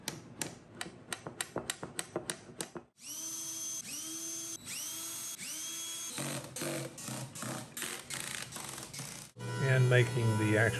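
A power drill whirs in short repeated bursts into wood, starting and stopping several times up close, preceded by a quick series of sharp ticking clicks.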